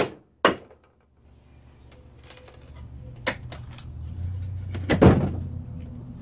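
A DIY camper trailer structure is hammered apart, giving sharp isolated wooden bangs: one early hard hit, then scattered knocks and a cluster of heavy blows near the end over low rumbling handling noise.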